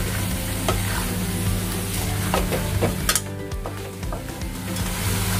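Whole black peppercorns with nutmeg fry on full flame in a pan and are stirred, a loud, close, continuous sizzle broken by scraping spoon strokes and light metallic clinks.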